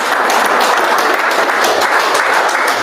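An audience applauds with steady, dense clapping that stays loud and sustained throughout, with no pauses and no voices on top.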